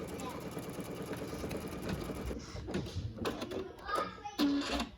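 An embroidery machine stitches an in-the-hoop cotton zipper purse with a rapid mechanical whirring chatter, followed by a short run of irregular clicks and knocks near the end; a person talks over it.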